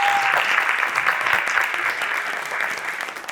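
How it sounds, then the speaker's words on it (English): A luncheon crowd at a Girls Inc. awards event applauds sponsors, steady dense clapping filling the room for a few seconds without pause. "please shower them with applause"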